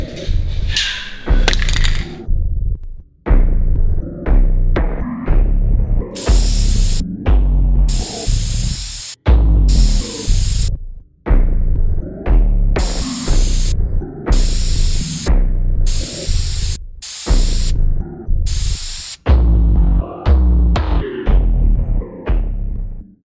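An aerosol spray can sprays in a series of about eight short, loud, hissing bursts, separated by brief gaps and set against other ongoing sound.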